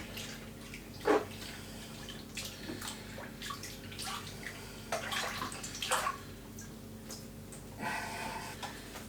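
Water splashes and drips while a ball python is washed in a tub, a close, uneven run of trickles, sloshes and small drops with brief louder splashes and no talking.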